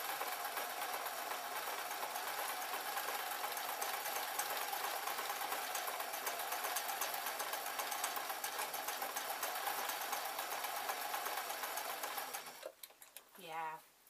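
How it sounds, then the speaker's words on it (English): Sewing machine stitching an oversized mop hat, running in a steady fast mechanical whir close by before stopping near the end, with a voice talking briefly afterward. "I'm still sewing with just one thread for that last couple of inches."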